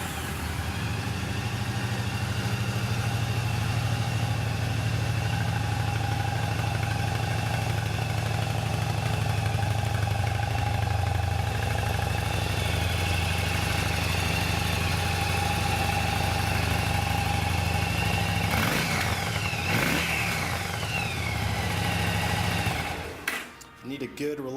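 A used Yamaha V Star 1100 Classic motorcycle with about 39,000 miles idles steadily with a low, even engine drone close by, followed by a brief clatter near the end.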